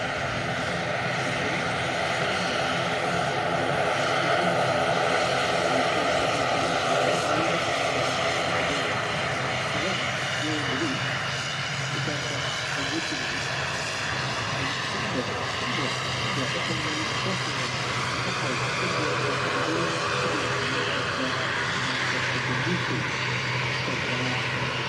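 A Loganair ATR turboprop inbound from Aberdeen arrives at Manchester Airport in poor weather, its steady propeller drone droning nearby for the full length, with voices present.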